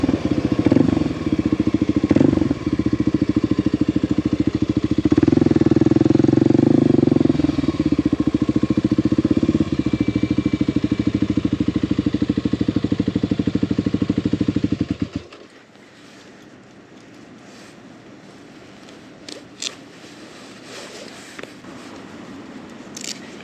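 Kawasaki KLX 300 motorcycle riding on a highway: loud, steady engine drone with wind rumble for about fifteen seconds, then dropping abruptly to a quiet idle with a few faint clicks.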